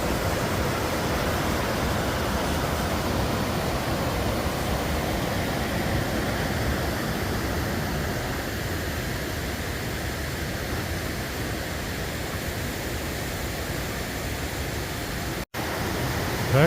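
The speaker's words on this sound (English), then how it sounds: "It's not really a river, but pretty impressive for a creek." Woods Creek, a rushing mountain creek on the Pacific Crest Trail, pours in a loud, unbroken roar of white water, steady throughout with no voices, then cuts off briefly near the end.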